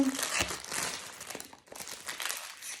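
Plastic packaging of a diamond painting kit crinkles and crackles close up as it is pulled open, with a brief tear and steady crumpling throughout.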